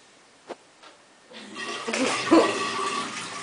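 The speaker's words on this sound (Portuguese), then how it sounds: "Aí dá 3 descarga." A toilet flushes with a rising rush of water that builds and churns steadily after a couple of faint knocks, close and moderately loud.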